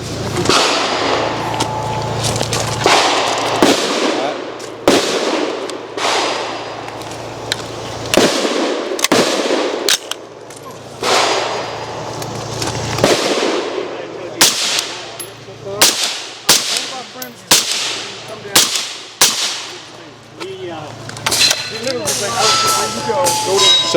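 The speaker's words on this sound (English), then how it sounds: "we're going to shoot the exact same gun with the exact same ammo, standard 55 grain bolt" Rifle shots fired through a Hu-Du muzzle brake and baffleless suppressor system with standard 55 grain ammunition, a series of loud, sharp cracks, some in quick pairs and rapid strings, with voices talking between shots.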